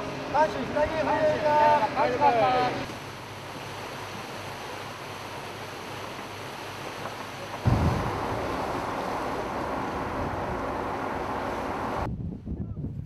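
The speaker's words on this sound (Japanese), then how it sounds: "16日は掃海艇月島での訓練が報道陣に公開され10時30分に油津港を出港" Uwajima-class minesweeper Tsukishima, commissioned in 1993, heads out of Aburatsu port in Nichinan, Miyazaki, under steady wind buffeting and rushing water. A brief tonal, voice-like sound opens the scene, and a louder surge of noise comes partway through.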